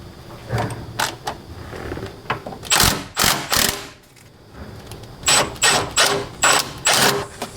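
A ratchet wrench loosens a 14 mm sway bar link bolt on a Ford Falcon BA/BF front suspension, giving several short bursts of rapid metallic clicking, close and fairly loud, separated by brief pauses.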